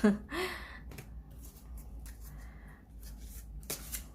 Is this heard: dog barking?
no